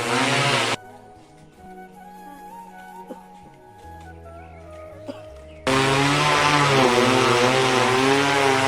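A loud, steady high-pitched motor whine cuts in and out, an intense buzzing drone of an agricultural spraying drone overhead spraying areca palms, with a quieter stretch of background noise between bursts.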